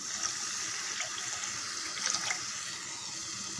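A steady stream of water pours continuously into a pan, a close, even rush with slight splashy flickers, no voices.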